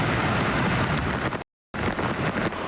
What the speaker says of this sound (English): Heavy rain and flooding killed 2 people and injured dozens.